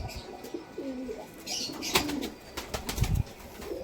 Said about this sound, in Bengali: কামাগার মাদা খুব সুন্দর ওড়ে